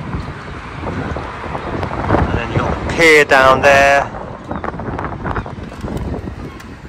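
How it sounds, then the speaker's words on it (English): Wind buffets a seaside hotel balcony in Brighton, with a strong gusting rush behind someone talking. A heavy burst of microphone-battering wind comes midway through. "It's very windy today."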